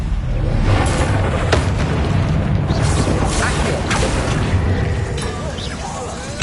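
In Hogwarts Legacy, a Bombarda blasting spell goes off with a loud booming explosion, followed by rumbling, creaking and shattering debris that keep sounding for several seconds against game ambience.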